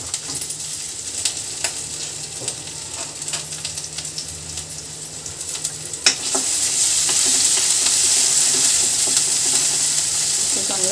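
Garlic, green chilli and ginger sauté in a hot pan for chilli chicken, a steady close sizzle with stirring scrapes, growing louder and hissier about midway through.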